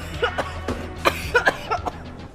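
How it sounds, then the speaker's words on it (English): A short burst of coughing in a short festival film, several quick close coughs in a choppy rhythm, mixed with voiced throat sounds. "Well, at least the coughing stopped."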